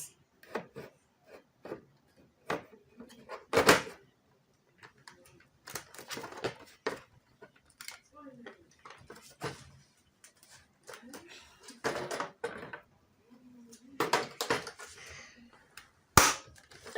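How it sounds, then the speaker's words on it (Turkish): A PS5 console cover panel is pried off and snapped back on, making close plastic clicks, scrapes and handling rattles spread across the clip, with someone speaking intermittently. "Kapağı çıkardık ve kapağı taktık"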